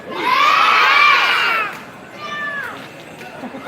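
A crowd of children shouts loudly together at a story-time event with Santa, a sustained group yell lasting over a second before dropping to a quieter second burst of shouting.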